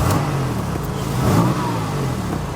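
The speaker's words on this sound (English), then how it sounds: "we need to have a listen to the decibel level of the exhaust pipe of both vehicles" A loud Mercedes G63 AMG G-Wagon engine revs close by, its exhaust roaring and rising briefly before settling back to a steady growl.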